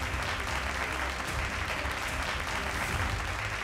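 Dense, steady applause from an audience fills the hall at a Simhastha Kumbh Mela discussion forum, continuous and even throughout with no break.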